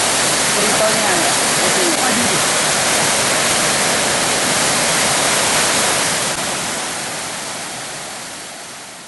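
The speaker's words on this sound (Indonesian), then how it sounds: "pesona air terjun setinggi 70 meter ini sangat indah" A 70-metre waterfall at Curug in Musi Rawas roars steadily as a dense wash of falling water, close and loud throughout before easing slightly toward the end.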